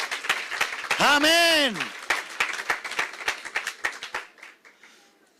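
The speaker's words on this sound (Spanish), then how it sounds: "Dale otro aplauso al Rey. Dáselo fuerte." A church congregation claps loudly for the King during a Spanish-language sermon, with a burst of dense applause and a voice crying out over it. The clapping then thins into scattered claps and fades.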